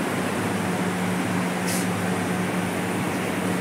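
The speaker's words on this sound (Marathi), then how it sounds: "कूलर बी लावलं यांनी" An air cooler runs indoors in a room, giving a steady, even whir of fan noise with a low hum underneath and nothing else standing out.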